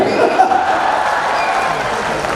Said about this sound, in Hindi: तालियां जोरदार बजा सकते हो आप